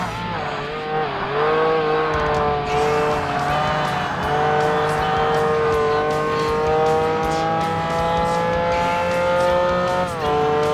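Loud racing car engine in the 2005 video game Forza Motorsport, a steady high-revving drone with rising and falling pitch over about ten seconds, continuous and close with no talk over it.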